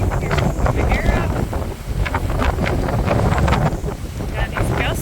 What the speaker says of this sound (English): Yeah, these gusts are pretty big.